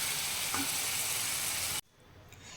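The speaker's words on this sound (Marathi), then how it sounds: "इथेच उभं राहून हे सर्व मिश्रण परतत राहायचं आहे" A banana, coconut and sugar mixture for Kelepak being stir-fried over medium heat, a loud steady sizzle with a faint clink that cuts off abruptly to a much quieter hiss.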